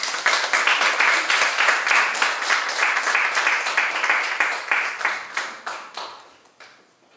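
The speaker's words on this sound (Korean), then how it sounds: "박수로 맞아드리겠습니다." An audience at a Christian youth seminar for music majors claps to welcome a missionary speaker, steady crowd clapping with sharp individual claps standing out, slowly fading away near the end.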